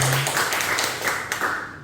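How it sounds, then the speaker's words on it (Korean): Church congregation clapping briefly during a Sunday worship service, a dense patter of many hands that fades quickly, with a short low hum at the start. "박수 한번 해주시고요."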